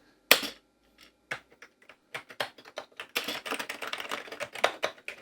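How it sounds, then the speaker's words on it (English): Keys on a Commodore Amiga CDTV keyboard are pressed one after another, giving close, crisp plastic clicks, a sharp first tap and then an irregular, quickening run of keystrokes. "let's try pressing some keyboard keys"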